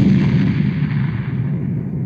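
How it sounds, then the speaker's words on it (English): A deep, rumbling explosion roars in a science-fiction story, a loud sustained low boom that gradually fades out, with no voices. "There came the roar of an explosion."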